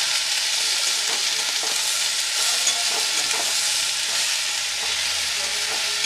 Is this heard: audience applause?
no